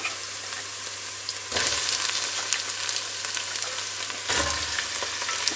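Chopped onion and green beans sautéing in a pan for Greek-style green beans, a continuous loud sizzle that surges twice as food is stirred or added, with no talking.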